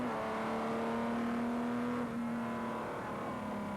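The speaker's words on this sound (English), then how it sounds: "Gregor Fiskin drives down the pit lane and back into the RAC Tourist Trophy." Racing car driving steadily down the pit lane at the Goodwood Revival, its engine a loud, continuous drone held close throughout with no voices.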